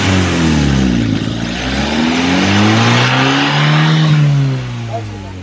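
A modified Maruti Suzuki Swift's engine revs up and down several times, loud and close, the pitch climbing and falling in swooping sweeps before easing off at the end.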